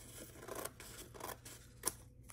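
Scissors snip through a solid sheet of paper, cutting it into smaller pieces in a classroom art lesson, with several short, crisp cutting strokes heard up close and no talk over them.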